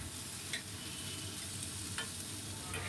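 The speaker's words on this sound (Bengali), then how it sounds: "এবার দিয়ে দেব টমেটো কুচি। টমেটো না গলে যাওয়া অবধি আমি এইভাবেই নাড়তে থাকবো।" Chopped tomato fries in a pan under quiet stirring, a soft continuous sizzle broken by a few scraping strokes of the spoon at irregular intervals, no speech.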